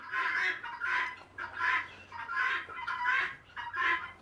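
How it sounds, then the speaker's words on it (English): Baby chicks on a farm, a steady run of close, high peeping and chirping calls repeating in bursts about every half second. "Baby chicks."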